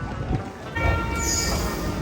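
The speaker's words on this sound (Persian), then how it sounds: "دوستان ما آمدیم در متروی شهر لیسابون فرا آمدیم و میریم طرف شهر، طرف مرکز." A Lisbon metro train rumbles steadily close by, a broad rolling roar with a faint high whine rising partway through, with no talk over it.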